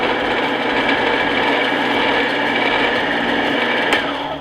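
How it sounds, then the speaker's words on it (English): A shop bandsaw set to a fast speed, used for cutting foam, runs with a loud, steady, continuous whir and hum from close by, nearly unchanging throughout. "turn this bandsaw. And we can adjust the speed."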